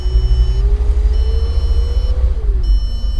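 A steady car warning tone beeps in long pulses over a low idling engine rumble, close and continuous, in a van left abandoned in Kherson for three years.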